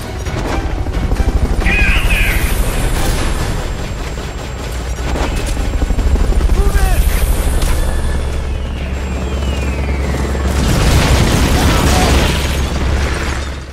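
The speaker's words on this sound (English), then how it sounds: "this is the bomber variant of the attack chopper, and also a different model of attack chopper than the one that we fought previously" The bomber variant of the attack helicopter in the video game Metal Gear Solid Peace Walker: a loud, continuous rotor drone with several booming explosions and bursts swelling and fading over it, and no talk.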